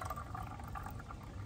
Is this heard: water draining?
yes